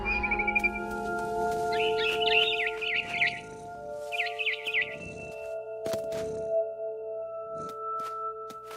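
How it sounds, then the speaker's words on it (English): Barn swallow chirping in the video game What Remains of Edith Finch: bright, twittering bursts of bird calls in several short clusters over steady game ambience, fairly close and clear. "Then I heard chirping outside my window. It was a barn swallow going back to her nest."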